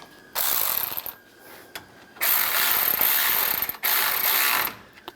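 A hand ratchet tightens the condenser fan bracket bolts on a 1997-2001 Honda CR-V, with three bursts of rapid clicking separated by short pauses, close and fairly loud.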